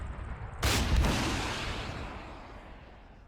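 Javelin missile launch in a military shooter game: one sharp, loud close blast, then a long rumbling roar that slowly fades over about three seconds, no talk.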